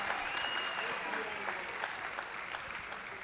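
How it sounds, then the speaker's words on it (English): An audience at a 2011 arts college commencement ceremony breaks into sustained applause, a fairly even patter of many hands clapping at a moderate distance, with faint voices mixed in. "Please join me in recognizing our commencement platform party in a round of applause."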